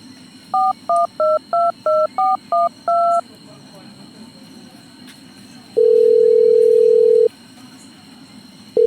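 A telephone number is keyed in as a quick series of eight loud touch-tone beeps, followed after a pause by a long steady tone and the start of another.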